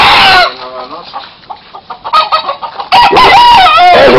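A rooster crows loudly and close, with a long, wavering call at the start and again at the end, while clucks and bird sounds fill the quieter stretch between.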